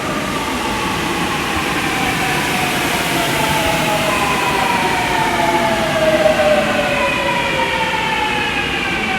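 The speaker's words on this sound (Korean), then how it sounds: "지하철 온다" A subway train pulls into a station, its rising and falling metallic whine sliding in pitch above a broad rumble that grows slightly louder as it nears, with no talk over it.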